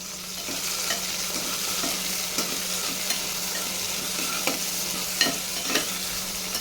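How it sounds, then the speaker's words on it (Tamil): Tomatoes and a handful of mint leaves fry in a pan for a chickpea biryani, giving a continuous sizzle broken by regular scraping stirs of a spoon against the pan. "சேர்த்துட்டு நல்லா ஒரு தடவை மிக்ஸ் பண்ணி விட்டுக்கலாம்"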